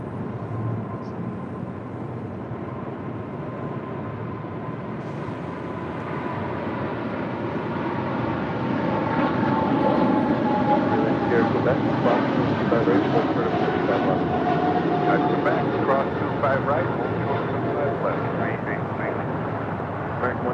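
An American Airlines Boeing 777-300ER rolling down runway 25 right, its broad jet engine roar swelling and growing louder over the clip from a distance, steady and continuous.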